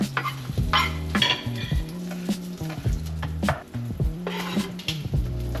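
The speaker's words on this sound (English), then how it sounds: "We're gonna chop up some cilantro and onion." Knife chopping cilantro and onion on a cutting board outdoors, a quick, regular series of sharp close taps in bursts, with a faint sizzle of trout cooking nearby and no talking.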